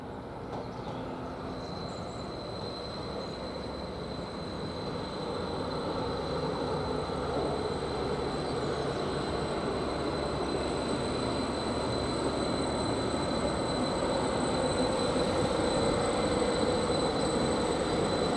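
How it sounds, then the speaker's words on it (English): A Greater Anglia Class 755 passenger train on the Ipswich to Cambridge service pulls into Bury St Edmunds station, a steady rumbling roll of wheels and motors that swells gradually and stays close and loud throughout, with no voices. "we got the first train of the day, which is the Greater Anglia service, which is the 10:59 service from Ipswich towards Cambridge"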